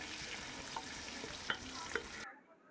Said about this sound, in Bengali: এখানে আলুটা বেশ লাল লাল করে ভেজে নেবেন